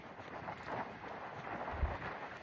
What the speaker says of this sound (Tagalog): Lakas kasi ng hangin dito eh.